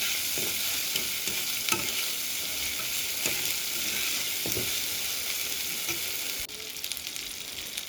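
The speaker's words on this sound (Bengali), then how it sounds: "চিংড়ি মাছগুলো ভালোভাবে ভেজে নিতে হবে" Shrimp sizzle steadily in a pan of spiced masala, a constant close hiss of frying with occasional stirring scrapes and small pops, no voices.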